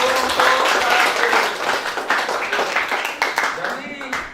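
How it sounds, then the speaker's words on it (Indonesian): A class claps for group 1 after a group presentation, with scattered applause throughout under a teacher's voice, which runs for most of the span, close and moderately loud. "Beri tepuk tangan untuk kelompok 1."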